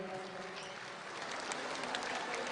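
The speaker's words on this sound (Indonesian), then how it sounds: "Boleh tepuk tangan yang paling meriah Bapak Ibu sekalian." A crowd at a PDI Perjuangan golden anniversary celebration applauds, a steady, moderately loud clapping that continues unbroken throughout.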